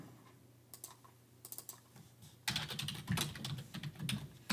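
Bursts of computer keyboard typing while laying out a Canva template, quiet scattered clicks at first, then a denser, louder run of keystrokes in the second half, no talking.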